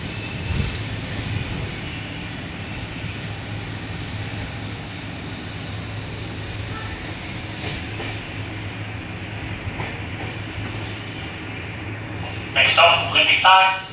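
Sydney S set electric train carriage in service near Lidcombe, a steady low rumble and hum of riding wheels and motors throughout, with a brighter squeal or rattle rising near the end.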